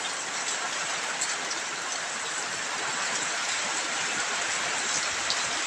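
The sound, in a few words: heavy rain with strong wind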